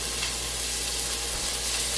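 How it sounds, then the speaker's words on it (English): Pancetta sizzling in a Dutch oven: a steady, dense hiss of frying fat, close and continuous with no pauses. "I'm going to throw the pancetta in to the Dutch oven and get that going"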